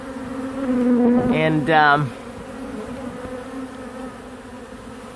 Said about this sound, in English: There's a lot of bees flying out here because I have them a little bit confused.